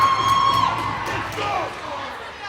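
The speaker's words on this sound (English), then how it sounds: "We have a lively crowd here." Spectators at a girls' U15 ice hockey championship game between the Mississauga Hurricanes and Durham West Lightning cheer and shout in a lively, sustained roar that fades slightly, with a sharp whistle-like tone near the start.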